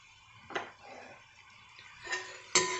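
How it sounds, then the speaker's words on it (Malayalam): Spoon scraping and clinking against a pan while stirring Thrissur-style beef fry, three sharp metallic knocks spaced apart over a quiet kitchen background. "ഇനി നമുക്ക് കുറച്ച് നേരത്തേക്ക് ഇത് ഇളക്കാം."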